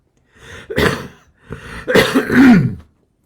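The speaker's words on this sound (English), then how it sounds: "That was an old person's cough" Two bursts of harsh coughing, close and loud, separated by a brief pause, the second rougher and longer.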